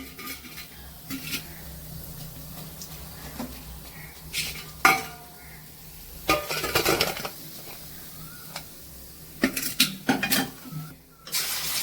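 Taro root (colocasia) fries in oil in a pan, with a soft continuous sizzle under repeated metallic scrapes and clinks of a spoon stirring and turning the pieces, some clatters louder than others.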